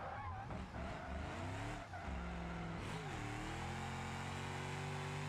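A car drifting in BeamNG.Drive, engine revving and falling as the car slides back and forth, with tires skidding and squealing through the turns, loud and close throughout.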